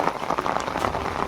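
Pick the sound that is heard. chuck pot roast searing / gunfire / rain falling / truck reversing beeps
rain falling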